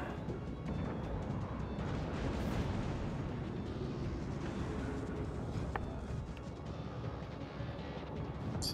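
Naval gun battle in World of Warships Legends, a dense, continuous rumble of heavy warship cannon fire and explosions blending into a loud, sustained roar with no clear gaps between blasts.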